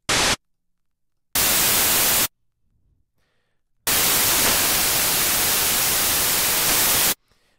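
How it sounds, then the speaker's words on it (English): White noise looped from a single synth oscillator in Ableton Live, heard as loud, flat hissing bursts that switch on and off abruptly, a short one, a second-long one, then a long stretch, with silence between. "because by definition white noise has no pitch, it doesn't matter where we put it"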